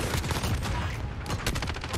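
Rapid gunfire in a shooter video game, dense overlapping automatic bursts and sharp shots crackling continuously at moderate volume for a couple of seconds.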